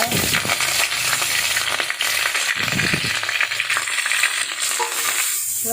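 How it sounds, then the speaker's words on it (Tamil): Grated beetroot being stirred in ghee for halwa: a steady sizzle with rhythmic scraping and shuffling strokes of a spoon through the pan, close and continuous, with no talking. "நல்லா அந்த நெய்யோட நல்லா கலந்து கலந்து விட்டுக்கலாம்"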